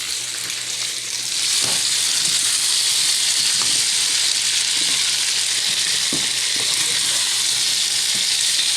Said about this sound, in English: So just let that fry real good.